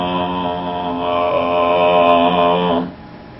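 A voice slowed far down and dragged out into a deep, droning smear of sustained tones, loud and steady for nearly three seconds before it cuts off abruptly.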